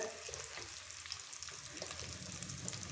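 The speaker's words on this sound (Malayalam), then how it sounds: "ഒരു ടീസ്പൂണ് മല്ലിപ്പൊടി മഞ്ഞൾപ്പൊടി ഇതെല്ലാം കൂടി നമുക്ക് നന്നായിട്ട് മൂപ്പിച്ചെടുക്കാം" Chili, coriander and turmeric powders roast in hot oil as the base for a fish curry, a soft, steady sizzle and crackle with light stirring, quiet and close, with no voices.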